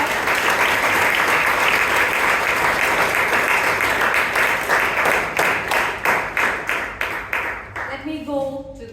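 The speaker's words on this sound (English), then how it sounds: "big round of applause to our table topic master" A room of Toastmasters club members applauds the table topic master at a meeting, a full, loud wash of clapping that gradually breaks into separate claps and fades, with a voice resuming just at the end.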